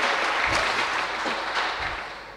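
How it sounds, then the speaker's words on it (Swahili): Revival church congregation claps loudly together in a short burst of dense applause, close and sustained, with some faint laughter mixed in. "Makofi kwa Yesu jameni"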